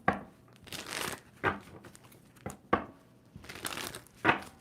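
A tarot deck is shuffled by hand in a few distinct bursts, each a short papery riffle or crinkle separated by brief pauses, close and fairly soft with no talking.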